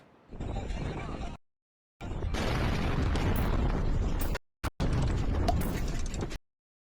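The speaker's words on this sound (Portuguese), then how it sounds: "foi uma explosão num armazém ao lado do aeroporto" Recorded footage of a munitions warehouse next to an airport exploding, heard as loud, roaring bursts of blast noise in several sustained segments broken by brief silent cuts.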